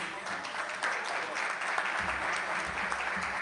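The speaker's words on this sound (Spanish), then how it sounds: "les voy a pedir para ellos un fuerte aplauso" An audience applauds league representatives standing on stage at a sports federation event, steady broadband clapping holding at an even level throughout with no voices over it.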